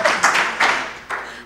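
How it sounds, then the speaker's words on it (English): A lone speaker at the end of a conference talk claps a few times, sparse and distinct hand claps in a small room. "Why I'm clapping for myself."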